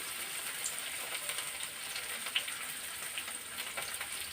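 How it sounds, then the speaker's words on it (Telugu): Marinated whole fish with heads on frying in plenty of oil, a soft even crackling sizzle that carries on steadily, fairly quiet and close, with no speech. "ఇది అంటే స్పెషల్ రెసిపీ కింద ఫిష్ ఫ్రై చేస్తున్నాను అనమాట"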